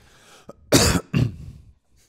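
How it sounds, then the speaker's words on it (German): Two loud, harsh coughs close together, preceded by a short throat sound, then a fading breath. "Moment, ich mal einmal husten hier."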